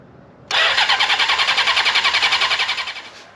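A restored 1979 Honda CB750 motorcycle engine starting for the first time, bursting abruptly into a loud, close, pulsing run that keeps a steady throbbing rhythm, with no voices.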